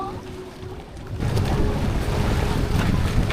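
Wind buffets the microphone over the steady wash of waves and water aboard a paraw sailboat off Boracay, with a boat's low rumble underneath; voices are faintly audible.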